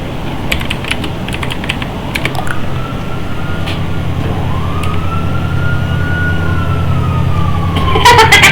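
A police siren wails faintly in the distance, rising and falling, over steady traffic rumble and scattered clicking and tapping.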